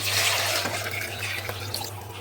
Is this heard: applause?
no